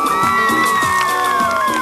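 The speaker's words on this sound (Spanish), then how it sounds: "Venga, fuerte los aplausos para Lorenzo." Live concert crowd at an anniversary celebration for a radio station in Cusco, cheering, whooping and shouting loudly and continuously, a dense wall of many voices close around.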